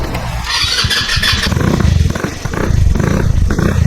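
A Chinese scooter's small engine cranks with a rapid rattling electric starter whir, then catches and runs with a loud, uneven buzzing idle close by.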